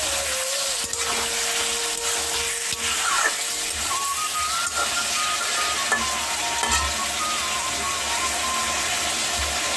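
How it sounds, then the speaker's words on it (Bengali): Meat fries in a pan at home, a steady, close sizzle and crackle with occasional stirring scrapes throughout. "মাংসটা দেওয়া হয়ে গেছে। ভালো করে ফ্রাই করে নিচ্ছি।"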